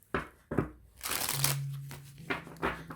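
Tarot cards shuffled by hand in a close, quiet room: a few quick papery riffles and slaps, then a longer flurry of crinkly card noise with a faint steady hum beneath.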